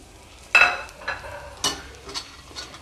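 Ginger, garlic and shallots sauté in a pan with a quiet background sizzle, punctuated by two or three distinct stirring scrapes of a spoon, close by and moderately loud.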